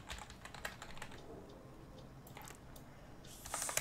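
Computer keyboard typing while coding a LeetCode solution, quick bursts of light key clicks with a short pause midway, quiet and close, no talking.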